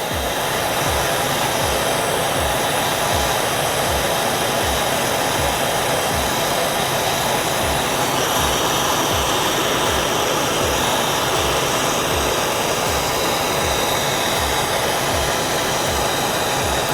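A Nortel Minor glass-working torch roars steadily as its flame heats glass, a close, loud, continuous hiss with a faint rhythmic pulsing underneath.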